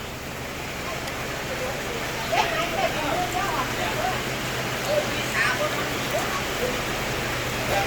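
Heavy rain with strong wind at night: a dense, steady hiss of falling water with scattered drip and patter accents over a constant low electrical hum.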